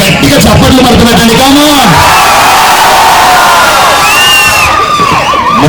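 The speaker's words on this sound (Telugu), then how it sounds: "మీరు ఒకసారి గట్టిగా చప్పట్లు మడత పెట్టండి" A crowd roars and shouts loudly and continuously at a shopping mall opening in Ongole attended by actress Sreeleela. The sound is a dense wall of cheering voices, with some whistles and clapping mixed in.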